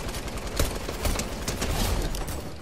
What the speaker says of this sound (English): They're shooting me, bro.